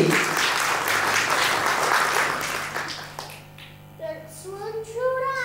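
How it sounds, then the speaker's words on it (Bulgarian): Children and adults clap at a first-grade letters celebration at a school, a loud burst of applause fading after about three seconds, followed by children's voices speaking. "Аплодисменти."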